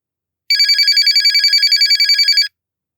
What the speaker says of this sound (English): The sharp ring of her mobile phone brought her out of the ruminations.